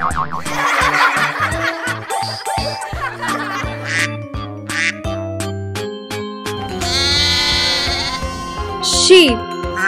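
Sheep bleating in a children's nursery rhyme track, several wavering bleats over a busy musical backing with giggles and a sung voice woven through.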